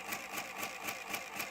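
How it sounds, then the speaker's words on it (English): A Burk EAS encoder's built-in printer running off a weekly test, a steady mechanical chatter of evenly spaced rapid strokes, moderately close and fairly quiet, with no talk. "I'll pause until the printer stops."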